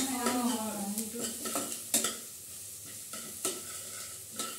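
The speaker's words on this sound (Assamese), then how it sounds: "পিঁয়াজখিনি অলপ ৰঙা চোকা হোৱাৰ পিছত নহৰু খুন্দাখিনি দিছে" Onions and crushed garlic paste frying in a pan, with a steady sizzle under repeated scraping and clinking stirs of a utensil against the pan, close and fairly quiet.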